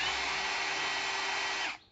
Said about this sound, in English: So we will be using the hammer drilling mode.